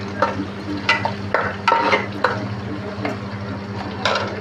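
Green chilli curry frying and being stirred in a pan, with a low steady sizzle broken by a string of scraping, clattering stirring strokes at close range and no talking.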